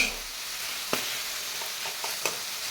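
A vegetable dish frying in a pan over a full gas flame, a steady soft sizzle with a few brief stirring clicks and scrapes, no voices.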